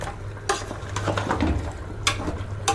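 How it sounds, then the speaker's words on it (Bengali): Tempering (bagar) of reddened garlic stirred into a curry in a pan, with a low sizzle under sharp scraping clinks of a spoon against metal, a few distinct strokes close by. "এই যে বাগারটা দিয়ে দিচ্ছি। আবারও একটু নেড়ে চেড়ে মিশিয়ে দিচ্ছি।"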